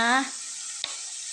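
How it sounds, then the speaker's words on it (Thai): Squid stir-fries with sugar, oyster sauce and fish sauce in a hot pan for holy-basil squid, a loud close sizzle that fades fast, then one sharp clack of a utensil against the pan. "ผัดทุกอย่างให้เข้ากันนะคะเพื่อน"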